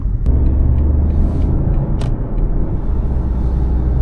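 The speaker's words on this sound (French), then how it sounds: "une voiture avec une micro-hybridation" A mild hybrid car's engine running with a steady low rumble, heard from inside the vehicle, with a couple of brief clicks over the drone.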